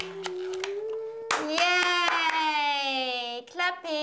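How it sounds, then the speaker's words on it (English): Children clap their hands in a short burst of quick claps, mixed with high, sustained child vocalizing and chatter close by. "Clapping."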